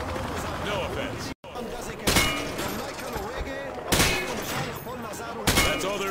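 Gunfire rings out during a weapons demonstration in Modern Warfare 2: three sharp, loud shots, spaced roughly two seconds apart, with a brief cut to silence before them and busy game sound underneath.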